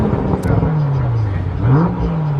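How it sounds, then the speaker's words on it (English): A 2022 Range Rover Sport exhaust revs up and settles in a couple of rising and falling engine swells, close and loud, with people talking over it. "It's got the performance, it's got the sound quality. You heard the exhaust?"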